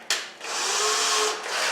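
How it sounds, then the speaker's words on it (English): A cordless power drill drilling holes for a towel rack whirs steadily for over a second after a brief start-up burst, loud and close, then eases slightly near the end. "So let's drill these out,"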